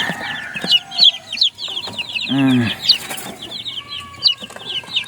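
Backyard chickens cluck and chatter close by in a pen, with quick overlapping calls, a longer squawk in the middle and occasional soft hen murmurs against a quiet outdoor background.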